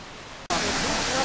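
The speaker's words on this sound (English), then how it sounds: "That's the waterfall on the River Bran." Waterfall on the River Bran at the Hermitage, a steady, loud broadband rush of falling water that cuts in abruptly and continues unbroken, heard alone.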